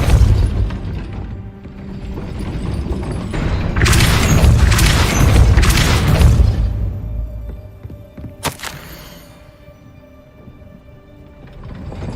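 In the game Hogwarts Legacy, a Depulso spell strikes a gate mechanism, setting off loud booming, grinding mechanical rumbles. A sharp crack follows, then the noise fades to a low drone.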